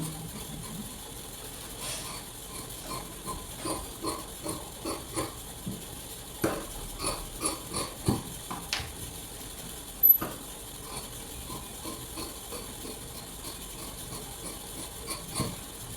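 Scissors snipping blouse fabric along a curve, a steady run of soft close clicks and crunches repeating about once a second with no talk.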